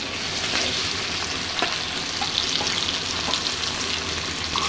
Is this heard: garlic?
yes